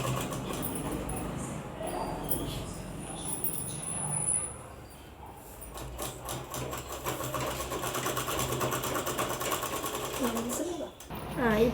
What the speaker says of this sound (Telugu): ఇప్పుడు దీన్ని డబల్ కుట్టు వేసుకోవాలి.